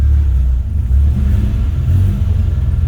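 Inside a BMW E30 on the move, a loud low engine drone and road rumble fill the cabin, steady with slight swells in revs and no voices.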